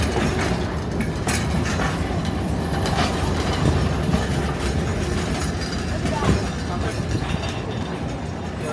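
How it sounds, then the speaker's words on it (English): Durango & Silverton narrow gauge steam train backing into the station, a steady rumble of rolling wagons with clattering wheels and occasional squeals, continuous and fairly close. "Here comes the steam train backing in."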